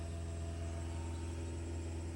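A VW Polo engine with a timing chain fault runs steadily with a constant low drone and harmonic hum, heard close up and alone. No clear rise in revs stands out.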